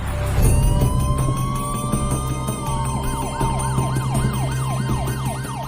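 Several emergency vehicle sirens wail together at a chaotic crime scene, one rising in a long sweep then switching to a fast repeating yelp, loud and close over a low idling engine rumble, with no one speaking.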